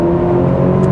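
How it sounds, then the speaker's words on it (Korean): Engine of a 2024 Maserati Grecale GT with a dual exhaust, revved higher via paddle shift: a steady, loud, low droning exhaust note with layered harmonics, held close and continuous with no talking. "패드 시프트 사용을 해서 RPM을 조금 강제로 높여봤을 때 이런 반응 같은 것들"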